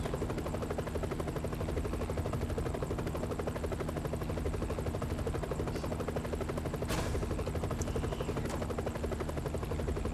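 A helicopter in the video game No More Heroes 2 drones steadily with a fast, even rotor chop throughout, loud and close, with a couple of brief sharp clicks near the end.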